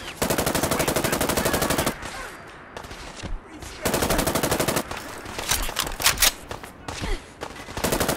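Long bursts of rapid fully automatic SIG MCX rifle fire in Fallout 4 rattle loudly, broken by brief pauses and scattered single shots, with faint background game sounds between.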